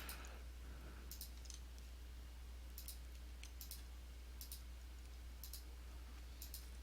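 Several faint, sharp computer mouse clicks come in an irregular scatter over a low steady electrical hum, some in quick pairs.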